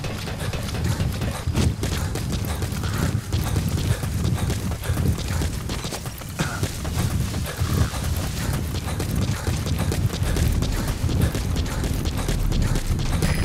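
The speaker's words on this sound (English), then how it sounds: "Planning to walk the whole wilderness on foot? Use your horse." Horse hooves clip-clop steadily and continuously at close range in the open-world video game Metal Gear Solid V: The Phantom Pain, a dense, even rhythm of hoofbeats with no talk over it.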